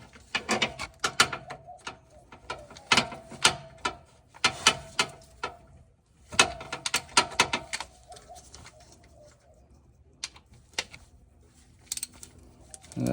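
Ratchet turning a torx bit on the front drive unit of a 2021 Tesla Model Y Long Range, with quick bursts of clicking separated by pauses, close and fairly quiet.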